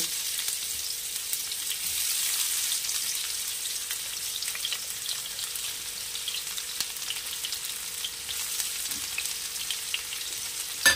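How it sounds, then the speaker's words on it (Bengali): Chopped onions fry in oil in a pan just used for frying fish, a continuous crackling sizzle with small popping bursts that stays even and close throughout. "এবার আমি পেঁয়াজ যে কুচি করে রেখেছিলাম, পেঁয়াজটা ভেজে নেব"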